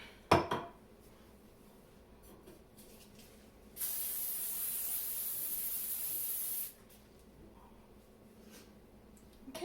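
Hairspray hisses from an aerosol can onto a woman's hair in one steady burst of about three seconds, loud and close, after a brief clatter at the start.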